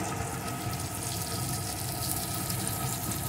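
Water pours steadily from a tap into a pan of fried onion and tomato for an egg curry, a continuous close rushing flow that fills the whole stretch with no voices.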